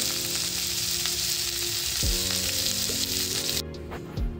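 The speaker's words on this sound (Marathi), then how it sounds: "कांदा टोमॅटो हलका ब्राऊन रंगावर भाजणार आहे" Onion and tomato fry in a pan, a continuous close sizzle with some stirring, easing off toward the end.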